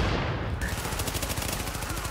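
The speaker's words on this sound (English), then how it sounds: "I'm gonna shoot my nade at him." Rapid automatic gunfire in the video game The Division, a dense, loud burst of evenly spaced shots that continues for about two seconds, with no talking.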